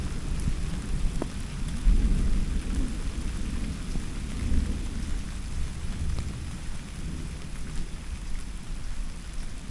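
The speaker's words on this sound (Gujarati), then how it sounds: "વીજળી તો જો જોરદાર થાય છે" Thunderstorm over the Gir region bringing heavy unseasonal rain, with steady rain falling and runoff dripping from the eaves, and low rumbling thunder rolling through the whole stretch, loud and close.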